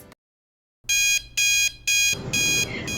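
An alarm clock goes off at wake-up with a bright electronic beeping in four loud bursts after a short silence, the last one over a hiss of background noise.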